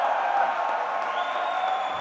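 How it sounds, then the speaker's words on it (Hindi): An indoor audience gives a dense, steady wash of clapping with faint cheering that holds evenly for a couple of seconds. "ये लक के लिए हल्की ताली है"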